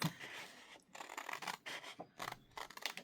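Scissors fussy-cut paper for a 4th of July scrapbook page, giving a close, crisp run of snipping and slicing strokes in several bursts separated by short pauses.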